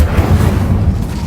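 A low booming whoosh of the Incendio fire spell being cast in Hogwarts Legacy, a single short burst of rumbling flame that swells and fades over about a second.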